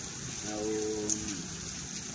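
Heavy rain falls as a steady, even hiss that fills the whole stretch, with a faint voice-like hum briefly underneath.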